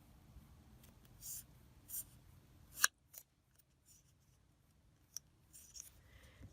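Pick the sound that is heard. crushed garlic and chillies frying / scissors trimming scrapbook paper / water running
scissors trimming scrapbook paper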